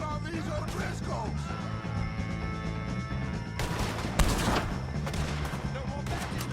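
Gunfire from Red Dead Redemption 2 during a shootout with O'Driscoll gang members, scattered shots and a burst of rapid fire over a sustained musical drone, with a loud crack near the middle and shouting voices in places.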